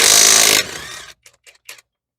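A cordless 1/2-inch impact wrench removing a car's lug nuts gives one loud, harsh burst of hammering that cuts off after about half a second, followed by a few faint clicks.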